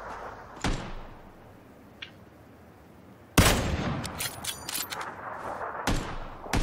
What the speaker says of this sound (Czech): ten z 30 po nás střílí, teďka z 30